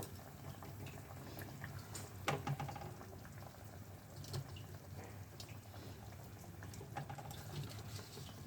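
A spicy Bengali sarputi fish curry with flat beans and potato simmers in a pan, a faint, steady bubbling broken by a few soft clinks.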